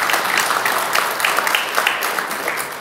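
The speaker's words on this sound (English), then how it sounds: "that's something to clap for" Sustained applause from a church worship audience, dense and steady clapping filling the space at a constant level with no speech over it.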